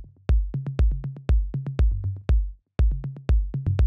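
Electronic tom drum sample with added low end, played as a quick rhythmic pattern of about fifteen punchy, boomy hits at slightly varying pitches, dry and close with no voice.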